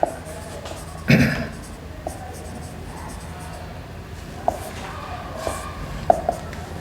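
Faint scratching and tapping of writing on a board during a probability lesson, a few sharper knocks standing out against a steady, quiet room background.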